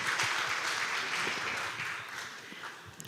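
A conference audience at a youth peace-building session gives a full round of applause, a dense, steady wash of many hands clapping that stays loud throughout and eases slightly toward the end, with no talking over it.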